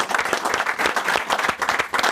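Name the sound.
audience applause for outreach workers in Norfolk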